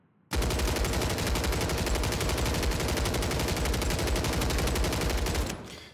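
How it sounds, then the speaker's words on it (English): A hitscan gun in Warzone Season 3 Reloaded fires a long unbroken burst of rapid automatic fire that stays loud and close for about five seconds, then cuts off. "the second we pull the trigger, we get hits"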